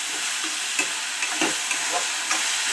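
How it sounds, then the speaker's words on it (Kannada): Onion, tomato and green chilli stir-frying in a pan for pasta, a soft continuous sizzle with light, scattered scrapes and taps of the spatula, close and fairly quiet. "ಇದರ ಚೆನ್ನಾಗಿ ಈರುಳ್ಳಿ, ಟೊಮೊಟೊ, ಹಸಿಮೆಣಸಿನ್ಕಾಯಿ ಎಲ್ಲ ರೋಸ್ಟ್ ಆದ್ಮೇಲೆ"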